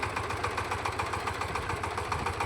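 A tractor engine idles with a steady, even low chug and rapid rhythmic pulsing, close and moderately loud throughout, with no voices over it.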